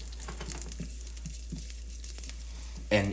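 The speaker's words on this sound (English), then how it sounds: "So let's add this, and it should start to sizzle." Steady sizzling of black cardamom in hot oil with soft crackles, close and moderate, rising into a sudden louder hiss near the end; no talking.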